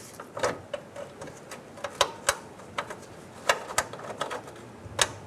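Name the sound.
bolt being threaded in on a Jeep Wrangler harmonic balancer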